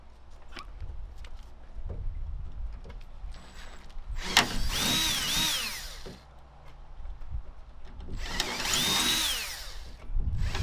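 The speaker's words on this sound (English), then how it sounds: "Should really go look for the manual on what they wanted you to drill these out with." Power drill boring holes in a Toyota Tacoma for a Uniden Pro 520XL CB radio install, with two sustained bursts of whining drilling between quieter clicks and handling noise, fairly close and with no talk.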